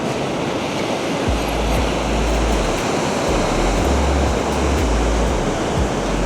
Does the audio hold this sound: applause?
no